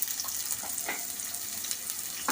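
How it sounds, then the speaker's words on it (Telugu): Chopped onions frying in a pan for a prawn and okra curry, a soft continuous sizzle with faint crackles, close and alone. "ఇప్పుడు ఇందులోనే ముందుగా తరిగి పెట్టుకున్న ఆనియన్స్ వేసుకుందాం"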